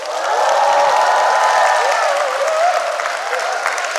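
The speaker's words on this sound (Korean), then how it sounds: "여러분 박수치고 환호하는 겁니다" An audience at a leadership lecture breaks into loud applause and cheering, a dense swell of clapping with shouts mixed in that stays strong before easing off slightly near the end.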